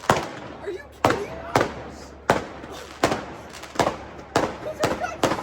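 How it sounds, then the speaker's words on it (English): Fireworks going off nearby, about ten sharp cracking bangs in an irregular rapid series, each loud and abrupt with a short ringing tail. "We just got shot at by just fireworks."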